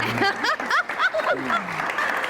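Studio audience applause at the close of a television programme, a steady dense clatter of clapping with a voice carrying over it throughout.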